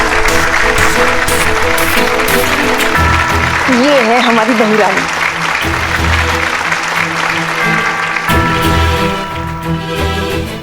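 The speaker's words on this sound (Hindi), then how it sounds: "क्या बात है, जोरदार तालियां हो जाए।" A crowd applauds steadily under someone speaking and a voice, with a short sung melody rising over the clapping midway through a television drama scene.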